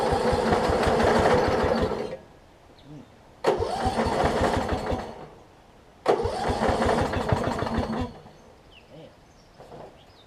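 A Yard Machines riding mower with spliced wiring and freshly added oil cranks its engine in three separate attempts, each a loud, chugging burst of about two seconds that cuts off into quiet pauses.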